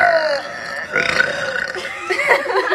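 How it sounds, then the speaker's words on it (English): A girl lets out a long, loud burp, followed by further throaty belching sounds in two or three bursts close to the mic. "today I'll be teaching my friends how to burp"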